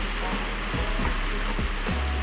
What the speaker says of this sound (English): As you can hear it, we have 2 sizzling going.